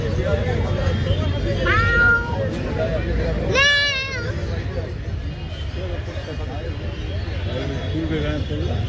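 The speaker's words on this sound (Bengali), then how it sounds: "দেখ ক্যাট" A cat meows a couple of times, short rising-falling cries, amid a busy crowd at a pet market in Baguiati, with people chattering in the background.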